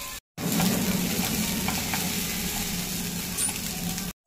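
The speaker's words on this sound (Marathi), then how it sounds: "मटार बघा छान आवाज येतो चढचढ त्याच्यातून" Green peas frying in a pan for pea cutlets, a steady close crackling sizzle with faint pops, running continuously for about four seconds between brief silences.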